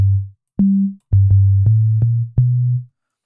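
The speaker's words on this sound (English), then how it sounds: "we'll leave it at the sine wave" A smooth, pure-toned synth bass plays a short melodic line of sustained notes, each starting with a soft click, clean and loud.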